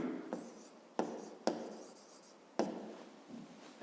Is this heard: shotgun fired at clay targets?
no